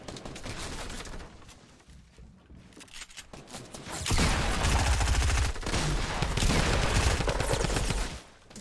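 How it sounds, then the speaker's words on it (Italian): Rapid bursts of gunfire erupt from behind the player in a Fortnite match, dense and loud, following a quieter stretch of game ambience before cutting off near the end. "Mi sparano da dietro."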